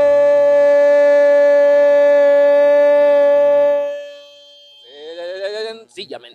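Siren at a football match, a loud steady wailing tone held for about four seconds before fading, followed by a brief stretch of excited voices.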